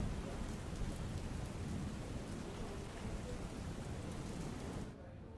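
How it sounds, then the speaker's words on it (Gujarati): Heavy downpour in Abdasa, Kutch, a steady dense roar of rain close by that persists evenly and drops slightly in level at the very end; no voices. "કોઠારામાં ધોધમાર વરસાદ વરસ્યો"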